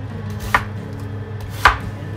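Two sharp knife chops through onion on a cutting board, spaced about a second apart, cutting it into square pieces for a beef stew; close and distinct over a low background hum.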